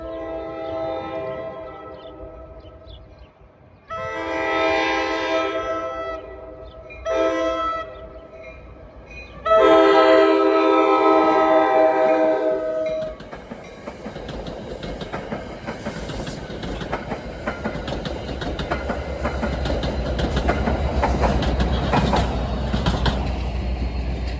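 A PL42AC-hauled passenger train on the ex-Erie Main Line in northern Bergen County, New Jersey sounds several loud horn blasts, then rolls by with a steady rumble and wheel clatter for the rest of the stretch.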